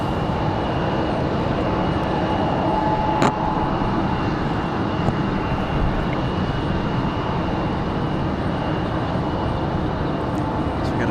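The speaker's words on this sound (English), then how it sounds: "So we got a 737 working its way out in front of these two" A Boeing 737 jet airliner taxis for departure at Raleigh-Durham airport, its engines a steady, moderately loud whine and rumble held throughout with a faint high tone, no talk over it.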